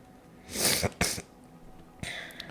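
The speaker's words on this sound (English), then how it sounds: "Again, apologies for my sniffles." A person with a cold sneezes sharply twice in quick succession, then gives a shorter sniffle-like burst, all close and loud with no talking.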